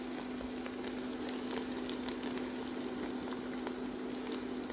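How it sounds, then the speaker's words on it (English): Onion fries in a pan, a soft, even crackling sizzle with scattered tiny pops, faint and steady over a constant low hum. "Fry the onion until it turns to brown."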